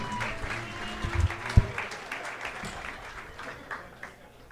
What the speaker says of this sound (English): Come on, make some noise for Yoga Leroy